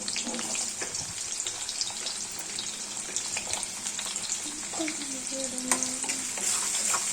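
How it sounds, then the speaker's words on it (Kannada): Chopped onions fry in hot oil for a Karnataka-style dill leaf stir-fry, a steady crackling sizzle with scattered pops and occasional scraping strokes as they are stirred in the pan. "ನಾನು ಹೆಂಚ್ಕೊಂಡಿರುವ ಈರುಳ್ಳಿ ಹಾಕಿ ಇದನ್ನು ಕೂಡ ಫ್ರೈ ಮಾಡ್ಕೋತೀನಿ"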